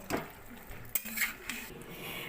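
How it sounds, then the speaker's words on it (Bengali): Fried chicken pieces tossed with spice masala in a pan, with close clinks and scrapes of a metal spoon against the pan and a faint sizzle underneath. "দেওয়ার পরে ভালো করে আমি মশলাটার সঙ্গে ভেজে রাখা চিকেনগুলোকে ভালো করে মিক্স করে নিচ্ছি"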